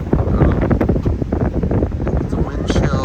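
Gusting wind on a cool, windy day with scattered rain buffets the microphone in heavy, uneven rumbling bursts, with a voice faintly underneath.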